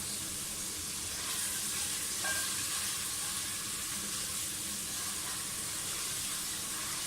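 Garlic-ginger paste and green chillies sizzle in a pan, a steady broadband hiss of frying holding evenly throughout with a slight swell near the start, no voices.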